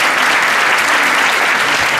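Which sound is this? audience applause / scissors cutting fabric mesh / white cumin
audience applause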